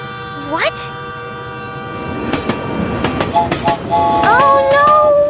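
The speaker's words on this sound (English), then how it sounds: "Oh no! The train is coming fast!" A train speeds toward a road crossing beside a toy tractor and excavator scene, its loud horn blaring in rising and steady tones over a rattling clickety-clack of wheels, while a voice talks over it.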